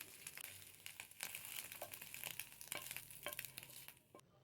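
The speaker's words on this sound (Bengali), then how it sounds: "হালকা লাল লাল করে ভেজে নেওয়ার পর তুলে নেব" Beaten egg frying in a little oil in a pan, a quiet continuous sizzle with scraping stirs and light crackles, fairly faint and with no talk.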